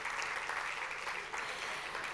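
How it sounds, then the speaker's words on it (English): Audience applause fills a ballroom at a wellness living launch event in Dubai, a steady, dense clapping that holds evenly for about two seconds at a fairly distant, soft level. "Let's give them a massive round of applause."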